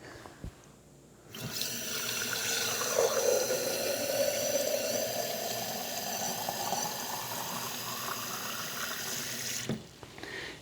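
Water runs steadily from a homemade whole-house reverse osmosis faucet into a container, a continuous rushing stream whose pitch rises gradually as the vessel fills, starting and stopping abruptly with no talk.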